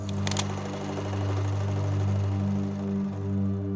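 Sewing machine running steadily with a continuous low mechanical hum and rapid stitching chatter, close and fairly loud, a couple of sharp clicks at the start.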